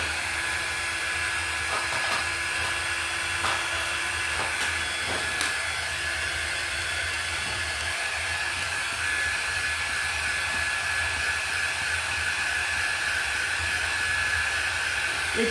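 A hair dryer blows steadily on chalk paste over a two-sided pedal stool frame, a close, even whir that runs unbroken throughout with no talking.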